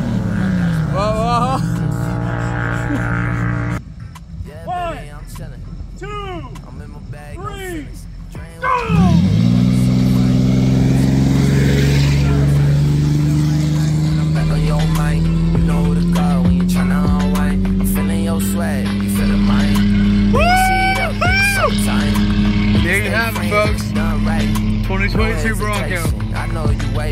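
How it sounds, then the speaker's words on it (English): A 2022 Ford Bronco in two-wheel drive drag racing a Ford Ranger on sand dunes: engines idle and rev, then roar hard as both trucks launch and accelerate, the loud engine drone climbing steadily, with people talking and shouting over it. "we're gonna drag race against my buddy and his Ranger, but I'm gonna be in two-wheel drive"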